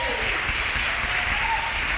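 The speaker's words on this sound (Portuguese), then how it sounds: "Dá uma salva de palmas para a irmã Aline." Applause for Sister Aline Noronha at a church congress, steady and dense throughout, a room full of hands clapping together at moderate loudness with no voice over it.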